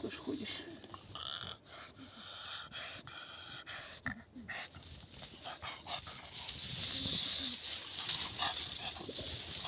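Small pug dog making soft snorting grunts and panting breaths close by, irregular snuffly bursts with a faint voice talking in the background.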